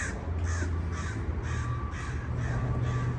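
Crows caw repeatedly in a steady rhythm, about six harsh calls spaced evenly, over a low rumbling background.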